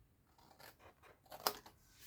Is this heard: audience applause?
no